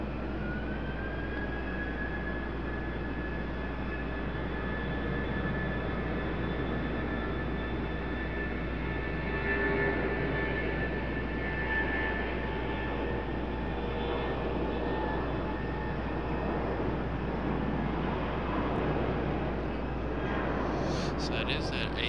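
An Embraer jet on runway 5 left at Raleigh-Durham airport makes a sustained, fairly loud engine roar with a thin high whine, steady throughout with a slight swell partway through.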